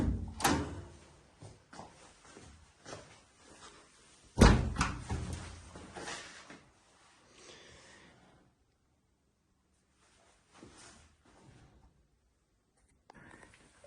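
Small plastic doors on a 1/12-scale RC Type 82 Kubelwagen model being opened and shut, giving a few close, light clicks and one sharper snap, followed by quieter handling noises.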